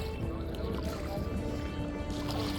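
A wooden shikara is paddled across Dal Lake in Kashmir, soft splashes and gurgles of water from the oar sounding close and quiet over a low background hum.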